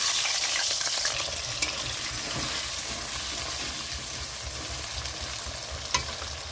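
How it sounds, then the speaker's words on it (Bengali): Potato pieces fry in hot oil in a pan while a spicy fish curry is being made, giving a continuous crackling sizzle with a few brief clinks of stirring and no voices. "এখানে দিয়ে দিচ্ছি আলুটা ভাজার জন্য"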